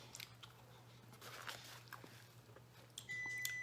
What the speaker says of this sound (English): But the damn oven went off. Is that gonna keep beeping?